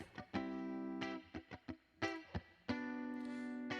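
A plucked, twangy electric instrument plays a few sustained chords and short stabs, with a slight springy reverb tail; fairly dry and close.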